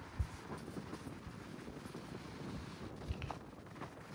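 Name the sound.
west wind picking up before a storm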